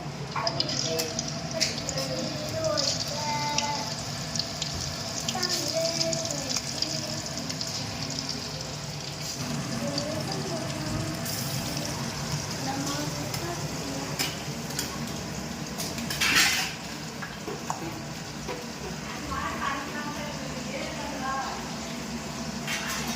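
Fish pieces frying in hot oil with a steady, crackling sizzle that fills the whole stretch, with a brief louder spatter near the end.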